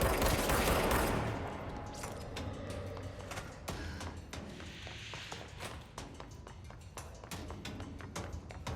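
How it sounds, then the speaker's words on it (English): Rapid bursts of video game gunfire and explosions crackle at a distance, dense at first and then scattered and sharp, with no talking. "Are the explosions coming from out here?"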